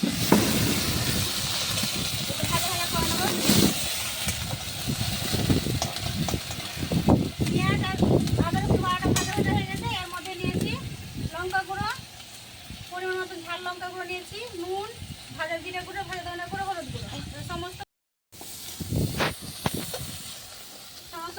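Onion paste sizzles in hot oil over a clay stove, a steady close hiss running throughout beneath a voice talking.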